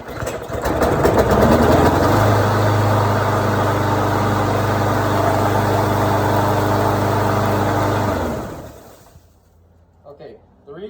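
A Snapper front-wheel-drive lawn mower with a Briggs Quantum engine runs loudly and steadily for about eight seconds after being pulled, then cuts out and falls quiet, with faint knocks at the end.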